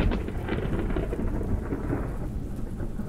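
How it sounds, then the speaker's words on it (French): Heavy rain pounding the surface of the Southern Ocean during a storm, heard from underwater as a dense, steady rumbling roar with continuous low crackle and no voices. "le bruit que j'entends, ça doit être la pluie qui tambourine sur la surface de l'océan"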